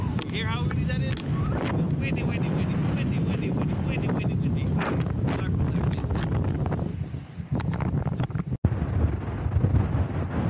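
Strong wind roars and buffets against the microphone in a constant, heavy rumble, with brief gusts and a sudden dropout near the end.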